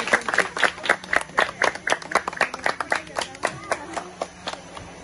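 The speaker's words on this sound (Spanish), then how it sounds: "Gracias, aplauso," Sparse applause for young girl athletes at a foundation ceremony, a handful of people clapping in distinct, fairly steady claps close by, without any talk.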